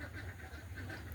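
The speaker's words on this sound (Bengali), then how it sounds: "দেখতে পাচ্ছেন আমাদের হাঁসের খামার।" Ducks quack on a duck farm. A short burst of repeated quacks is heard over a low background hum, with no talking.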